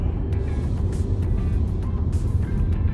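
Car cruising straight ahead on a city road during a driving lesson, a steady low engine and road rumble heard from inside the cabin, continuous and fairly loud.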